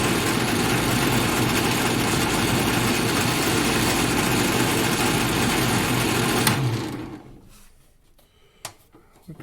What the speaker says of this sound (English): Turn it on and that works great for small sanding.